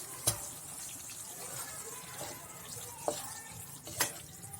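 Bitter gourd (karela) stirred in a cooking pan, soft scraping and faint sizzling with a few sharp clinks of the spoon against the pan, quiet and close.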